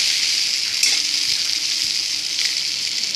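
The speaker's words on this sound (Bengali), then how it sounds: "পটলটা একটু ভেজে নিচ্ছি" Pointed gourd (potol) frying in a pan of oil, an even hissing sizzle of moderate loudness with a faint knock or two of the pan and no talk.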